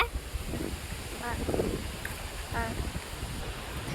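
Strong wind buffets the microphone during a golden-hour nature walk, a steady roaring rumble with gusty swells, while a voice speaks faintly underneath.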